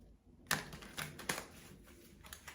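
Quick papery riffles and soft card slaps from shuffling tarot cards, a burst of crisp shuffling with a few sharper clicks, close up and fairly quiet, no voices.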